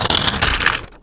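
Protective film peeled off the back of a new Samsung phone, a close, loud, continuous crackling rip lasting about a second before cutting off, with no talk.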